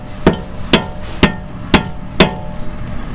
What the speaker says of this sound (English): we just take our mallet, and we might need to use another one of those little pick tools to go ahead and hammer it all the way in.